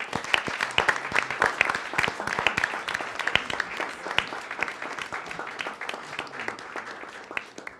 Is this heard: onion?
no